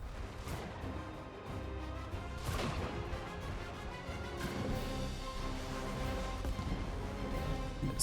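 Repeated booming impacts and crashes of artillery fire in the strategy video game Sanctuary Shattered Sun, survival mode, over a steady low rumble of battle, several distinct blasts spread across the stretch.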